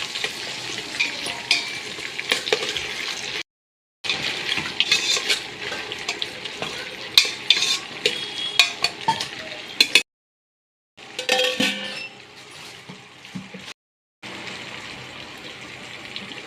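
Small shallots and chopped large onions fry and sizzle steadily in a pan for a chicken biryani gravy, with intermittent stirring and scraping of utensils, close and continuous with a few brief gaps.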